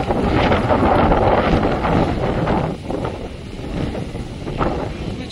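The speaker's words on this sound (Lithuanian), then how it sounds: "čia vėjuota" Strong wind on a hilltop overlooking a city gusts against the microphone, producing a continuous loud roaring rumble that eases slightly midway and then swells again.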